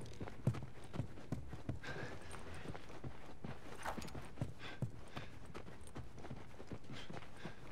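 Horse hooves clip-clop at a walk in The Last of Us, a string of close, uneven thuds with faint rustle and movement around them and no speech.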